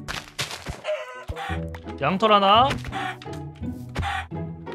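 A Minecraft chicken being hit gives clucking, squawking bursts with a dull thunk, mixed closely with someone talking excitedly over it.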